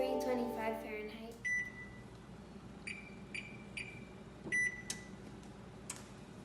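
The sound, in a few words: oven being set to 325 Fahrenheit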